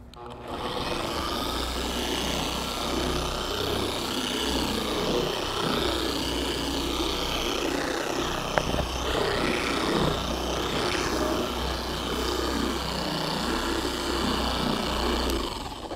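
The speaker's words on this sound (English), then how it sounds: "What I'm going to do is turn the machine on onto the first speed setting, and then I'm going to work this product into the area" A car polishing machine runs on its first speed setting, working Chemical Guys V32 polish into a car hood with a steady, continuous whirring drone that holds from start to finish with no talk.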